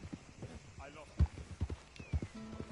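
Horse hooves clip-clop on the ground in Red Dead Redemption 2, a few irregular, fairly close thuds with a brief whinny-like tone and faint background ambience.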